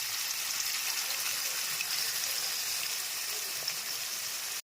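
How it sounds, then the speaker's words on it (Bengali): Shrimp fry in mustard oil with salt and turmeric in a wok, a dense, even hiss and crackle that holds steady and close before cutting off abruptly at the end. "এরপরে কিছু চিংড়ি মাছ ভাজতে দেবো।"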